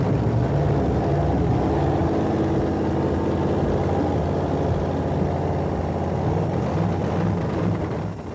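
A 1987 nitro-fueled funny car engine firing up at a drag strip, a loud, close, sustained roar with a deep droning tone that holds steady for about eight seconds and dips slightly at the end.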